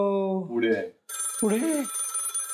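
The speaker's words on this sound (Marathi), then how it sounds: "ए भाई फोन घे रे." A telephone rings in a Marathi TV serial scene, a short electronic ringing tone heard clearly after a brief spoken word, then a second burst overlapping voices.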